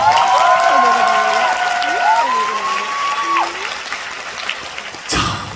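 A studio audience at a Korean variety show breaks into loud, sustained applause with some cheering. Sung melodic voices ring over the clapping at first, then the applause thins and a sharp burst of noise comes near the end.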